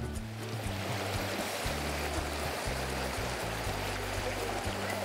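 A river in Sumedang flows over rocks, a steady close rushing and trickling water sound with a low engine-like hum beneath it, and no talking.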